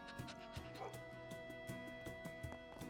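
A dog in the role-playing video game Trails Beyond the Horizon, barking in a short series of quick, light yips and barks at a steady pace over soft background game music, fairly faint.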